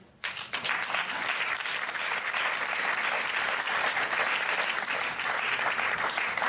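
An audience at a film premiere bursts into sustained applause, dense clapping starting abruptly and holding steady and loud throughout, with no talk.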